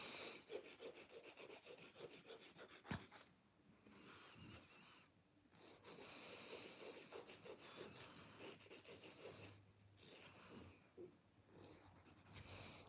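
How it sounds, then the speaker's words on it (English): A nail file rasps against fingernails during a gentle manicure that shortens and shapes them. Soft, close scratching strokes repeat back and forth in an uneven rhythm with brief pauses, quiet overall and without speech. "Now I'm just going to shorten and shape the nails."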